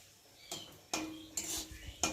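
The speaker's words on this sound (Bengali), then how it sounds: "তেজপাতাটা একটু ভালো করে ভেজে নেব" Bay leaf frying in oil in a pan while cooking a banana-flower dish, heard as a few quiet, separate bursts of sizzle and clinking utensil taps against the pan, spaced out over a soft background.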